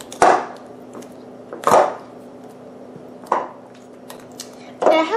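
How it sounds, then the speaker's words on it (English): A pastry blender cutting butter into flour for strawberry cream scuffins, four separate scraping, thudding strokes roughly a second and a half apart, close and fairly loud against a quiet kitchen. "I have a pastry blender here, and I'm just going to start cutting the butter into the flour until it's coarse looking."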